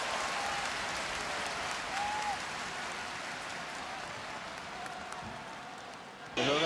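A stadium crowd at a 2006 Brann versus Rosenborg football match applauds and cheers in a broad, steady wash of noise, with a commentator talking over it.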